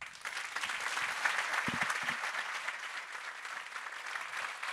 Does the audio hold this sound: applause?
yes